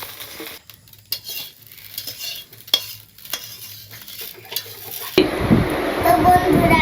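Noodles stirred and fried in a pan in a village kitchen, repeated scraping and clanking of a utensil against the pan, then a loud burst of sizzling near the end.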